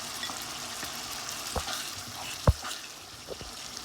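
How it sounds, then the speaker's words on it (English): Daal mash with green chilies sizzles and fries in a pan while being stirred, a soft steady crackle with occasional utensil scrapes and knocks, close but quiet. "While I'm stirring, I'm going to add these green chilies in there."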